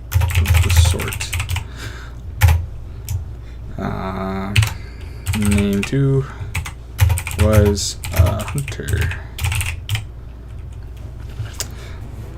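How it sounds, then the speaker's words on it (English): Rapid clatter of typing on a computer keyboard, with bursts of keystrokes interrupted by a person speaking. "Is this keyboard too loud?"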